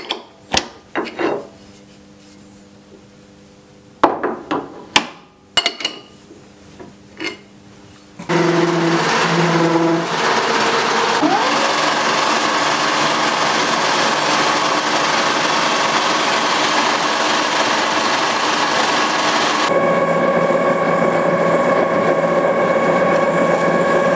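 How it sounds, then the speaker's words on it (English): On a lathe, a parting blade cuts a groove for a set screw: a few scattered clicks and knocks come first, then a loud, continuous machining whine and grind that shifts tone partway through and runs to the end. "what I need to do now is cut the groove for the set screw. And to do that, I'm going to use this parting blade"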